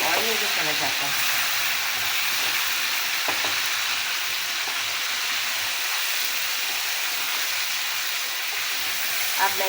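Chicken pieces fry in hot oil with onions, producing a loud, steady sizzle and crackle that fills the whole stretch without letup.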